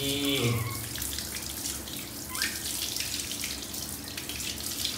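Steady rushing water runs from a shower head over a Pomeranian being bathed at home, a continuous close splashing wash with no pauses.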